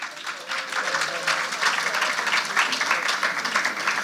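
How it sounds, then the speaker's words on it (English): Audience applause for awardees at a creative writing competition and exhibition, a dense rolling crowd clap that swells after a softer start and holds steady, with some voices mixed in. "Please applaud all the awardees thus far."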